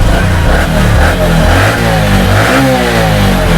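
A motorcycle engine with its carburettor mixture screw opened five turns revs up and drops back repeatedly, loud and close, with a steady throbbing idle between throttle blips and no voices.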